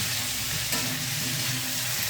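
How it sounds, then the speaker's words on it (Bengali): Mutton frying over high heat in a spice masala while being stirred, a steady close sizzle with scraping stir sounds throughout and no talking. "মাটনটা দিয়ে প্রায় আঁচটাকে জোরে করে 10 মিনিট মতো এই মশলার মধ্যে কষে নেব"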